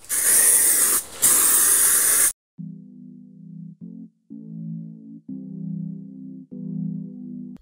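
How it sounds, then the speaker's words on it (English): Primer sprays from a can onto a BMW E39 car body in cold weather, a loud close hiss in two bursts with a short break between them, followed by humming tones with no spray. "with long flowing lines, start putting down the primer"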